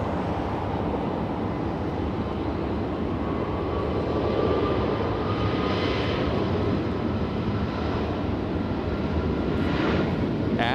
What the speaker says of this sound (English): we have the flight to Seattle taking off